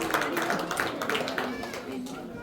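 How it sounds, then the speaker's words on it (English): Audience at a school annual function clapping for a student, a continuous wash of applause at moderate volume with faint voices underneath. "Everybody give her a good round of applause."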